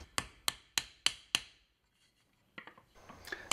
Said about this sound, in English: Here I'm using a hammer to pre-compress the grain on the tenons.